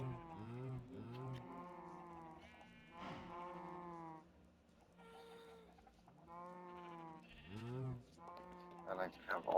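Sheep on a wool farm in Minecraft bleat over and over, with several overlapping, wavering calls packed closely together. The bleating is fairly near and stays steady throughout.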